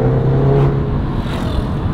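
Mercedes A200 engine running through a new modified exhaust, a steady close rumble with a low droning hum that stays loud and even throughout, no talking.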